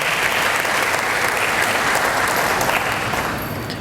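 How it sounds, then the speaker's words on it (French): An audience at the closing of a forum marking 25 years of the Senegalese bishops' pastoral letter claps warmly and steadily, a dense, continuous burst of applause that tapers slightly at the end. "Et nous l'applaudissons, s'il vous plaît."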